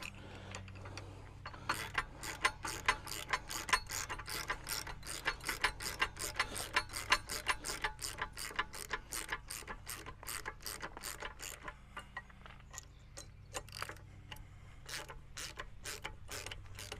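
A socket ratchet clicks rapidly as it turns bolts on a bracket, runs of close, crisp pawl clicks in bursts with short pauses between strokes.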